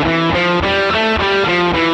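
Distorted electric guitar runs through an A natural minor scale, one sustained note after another at a steady pace, loud and with no one talking.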